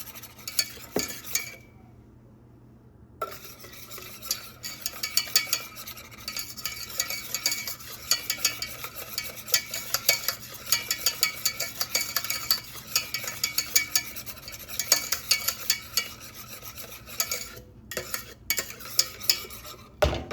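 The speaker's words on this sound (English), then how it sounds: "I'll take a little bit off the heat. Still keep stirring it." A sweet mixture is stirred in a pot just taken off the heat, with repeated scraping and clinking spoon strokes in a steady rhythm over a faint, fading sizzle.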